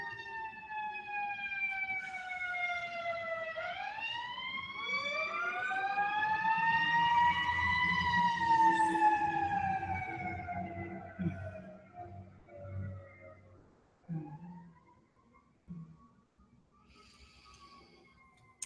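An ambulance siren wails close by, its pitch rising and falling as it passes, then fades into the distance.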